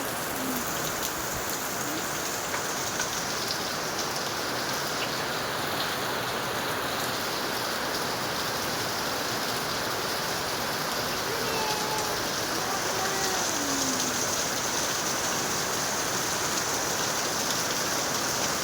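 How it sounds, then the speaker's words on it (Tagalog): Heavy rain pours outside a home, a dense, constant hiss of drops on surfaces that holds steady at close range throughout with no breaks. "Lakas ng ulan."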